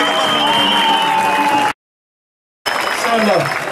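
A crowd at a democracy vigil in Çanakkale breaks into applause for the provincial party chair, a loud, dense roar of clapping and voices that cuts out abruptly to silence before resuming just as full.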